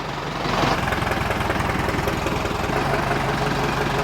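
An older Ford 5000 tractor fitted with an added cylinder chugs loudly with a rapid, even diesel knock. The engine swells as it revs up and then holds a steady rhythmic throb.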